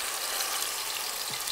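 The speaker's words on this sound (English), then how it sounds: "It's a good sizzle." Sambal frying in a preheated pan with oil, a steady bright hissing sizzle, close and even throughout with no other sounds.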